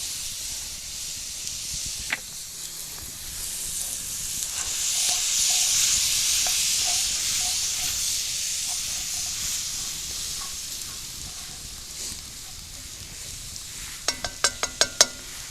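Tomato paste sizzles with onions in a Dutch oven, making a steady hissing fry that swells in the middle, with scattered stirring scrapes and a quick run of sharp metallic taps near the end.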